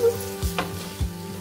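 Rice stirred with a little garam masala of cardamom, cinnamon, cloves, shahi jeera and black pepper in a hot non-stick-free pressure cooker, a few short scraping strokes over a low sizzle, no speech.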